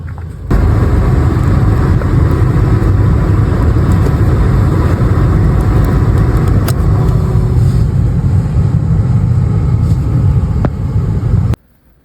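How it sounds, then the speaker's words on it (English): A 1999 Mitsubishi Montero Sport engine idles steadily with a low rumbling drone, then abruptly cuts out near the end as it runs out of fuel, leaving silence. "Just start the engine up and then disconnect that fuel pump relay, and the engine should be starved of fuel and turn off."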